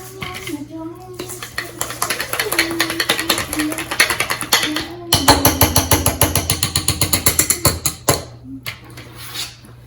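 A whisk beats lemon extract into sweet potato pie filling in a bowl, giving loud, fast rhythmic clinks and taps against the sides that pause briefly, then resume more vigorously before stopping.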